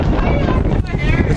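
Heavy wind buffeting a microphone outdoors in New York City, a loud continuous roaring rumble with gusty fluctuations across the short stretch.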